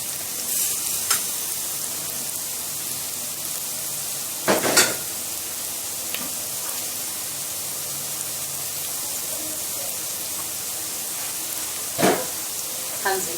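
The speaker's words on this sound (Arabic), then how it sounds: "هنزل بالشعريه بتاعتي" Vermicelli fries in a pot with a constant, even sizzle, broken by a few sharp scrapes and clinks from stirring.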